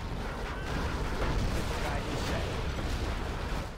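Berthing gun artillery fire from the real-time strategy game Shockwave rumbles as a steady, dense barrage of heavy booms and explosions on a mountain map, continuous and fairly loud throughout with no clear gaps.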